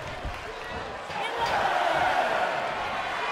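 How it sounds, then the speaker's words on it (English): Crowd noise from the WWE 2K24 wrestling game swells into a steady roar of cheering under an excited commentator's voice. "The sound of this crowd is deafening, and he's asking for more."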